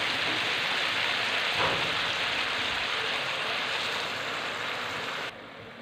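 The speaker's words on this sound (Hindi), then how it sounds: "अदरक और लहसुन को हम करेंगे फ्राई" Ginger and garlic sizzle steadily in a spoonful of hot ghee for chana dal, a dense, continuous frying hiss close by that eases slightly near the end, with no talking.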